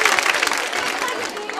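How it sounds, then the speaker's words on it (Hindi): An audience at a college quiz show applauds a contestant, a loud, dense round of clapping from many hands, with a voice speaking over it toward the end. "शिवानी जी के लिए तालियां जोरों से बजनी चाहिए"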